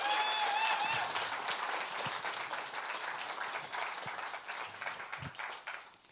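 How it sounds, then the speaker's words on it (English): Audience at a comedy showcase applauds, a loud burst of clapping at first that slowly thins and fades, with a few whoops and faint murmurs mixed in. "Give yourself a round of applause"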